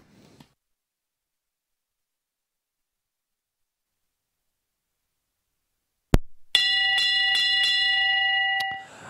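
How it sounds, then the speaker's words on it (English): After long silence, a couple of sharp knocks, then an electric bell rings continuously for about two seconds before cutting off, signalling a competitor at a horse show event. "the bell sounds for our first competitor"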